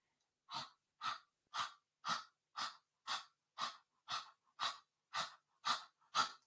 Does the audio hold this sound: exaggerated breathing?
yes